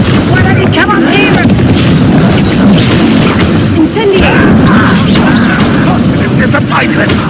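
A fire spell blasts in the Hogwarts Legacy video game, a loud, sustained roaring burst of flame and impact noise filling the whole stretch, with a voice speaking over it.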